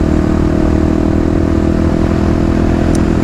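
A freshly tuned Kawasaki KLX351 dirt bike engine runs at a steady, close idle, with a loud, even, throbbing thump.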